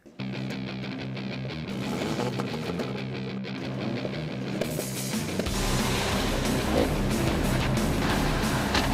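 Volkswagen Golf R with four-wheel drive launching from a standstill on snow in a drag race, its engine note droning steadily and then surging louder and rougher midway as it gains traction and pulls away.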